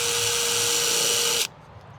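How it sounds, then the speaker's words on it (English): A power drill bores a pilot hole while a single door is being installed, a loud steady high whine running about a second and a half before cutting off abruptly. "I'm going to go ahead and pre-drill my first hole"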